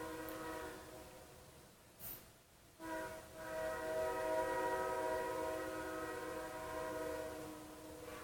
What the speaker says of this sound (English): I'm sure you guys can hear the train in the background here in North Carolina.